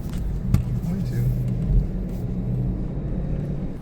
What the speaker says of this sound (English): You get to hear the Lexus V8 rev a little bit